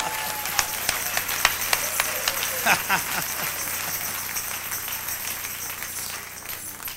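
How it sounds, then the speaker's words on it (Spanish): A church congregation claps and cheers, the applause strongest at first and gradually fading, with someone laughing. "Dale un aplauso a Jesús."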